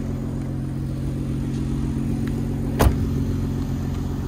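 A 2006 car at a dealer's lot, bought at auction, running with a steady low engine hum and a brief louder surge partway through, close by with no talking.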